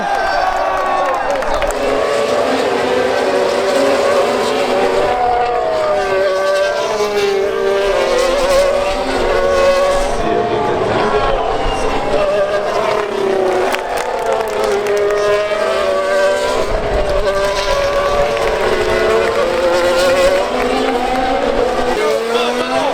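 Formula 1 race cars at the French Grand Prix scream past with rising and falling engine whines, layered one after another over a continuous crowd and track din.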